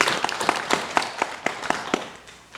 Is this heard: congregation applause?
yes